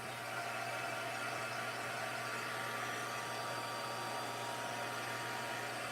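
An embossing heat tool melts embossing powder on paper with a steady, loud blowing whir, like a hair dryer, running without a break throughout.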